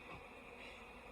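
Bees buzz steadily near beehives during fall management with a super on the hive, a soft continuous drone that stays even for the whole moment with no talking.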